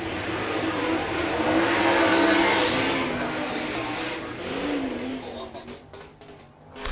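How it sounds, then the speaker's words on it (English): Ford Raptor pace truck rolling onto the Kokomo Speedway dirt oval before heat races, its engine rising and then fading under a commentator's voice and crowd ambience. "Jeff Patterson wheels the Ford Raptor onto the racetrack, the official pace truck of the FloRacing All-Stars"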